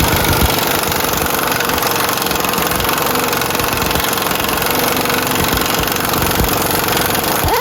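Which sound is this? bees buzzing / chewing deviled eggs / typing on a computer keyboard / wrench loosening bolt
wrench loosening bolt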